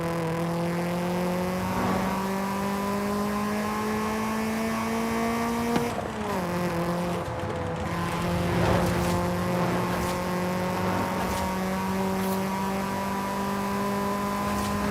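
A D-class car in Forza Horizon 5 drives fast, its engine holding a steady high drone with a brief dip in pitch around mid-clip as it shifts or lifts, then climbing again, loud and continuous with no talk.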